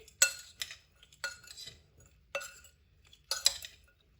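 Eggs beaten with turmeric and salt in a bowl: four quick bursts of clinking and scraping from a utensil against the dish, separated by short pauses, close and fairly quiet with no talking.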